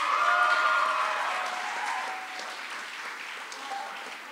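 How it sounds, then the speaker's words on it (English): A school soirée audience gives a round of applause for the piano player, a soft, steady patter of clapping in a hall that gradually fades. "Round of applause for Mr. Griffin"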